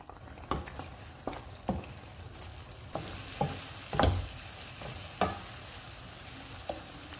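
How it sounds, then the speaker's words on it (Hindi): Minced meat keema being fried over a full flame, with a low steady sizzle and repeated sharp spatula knocks and scrapes against the pot at irregular intervals, close and clear, no talk. "अब हम चूल्हे को फुल कर देते हैं और ऑयल अलग होने तक कीमे को भूनेंगे।"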